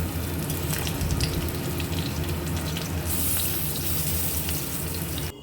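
Vegetarian raw-banana kofta balls fry in oil in a pan while being turned, giving a steady, dense sizzling hiss that holds evenly throughout, close and fairly loud.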